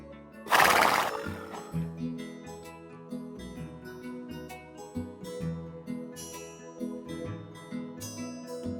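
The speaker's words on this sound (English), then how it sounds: "Lucky is a dwarf miniature horse who came from a cruelty case in Upton." A dwarf miniature horse at a farm sanctuary gives one loud, shrill whinny up close near the start. Quieter hoof and movement noises continue afterward.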